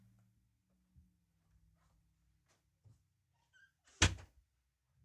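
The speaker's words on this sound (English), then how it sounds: "How did my cat just open my door?" Door pushed open by a pet cat named Leia, with soft thumps and creaks and then one sharp knock near the end, in a quiet room.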